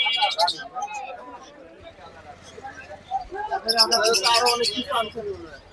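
Low coos of Pakistani pigeons murmur beneath several people talking, with a chirpy bird call rising near the end amid busy chatter at a large pigeon market in Khalishpur, Khulna.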